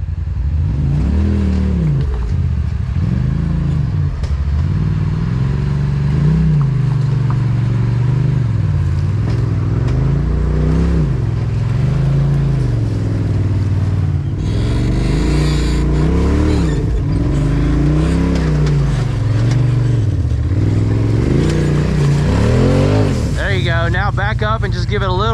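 A motorcycle bumps its back tire over an obstacle on a trail, its engine rising and falling in repeated revving surges, loud and close, while people talk over it.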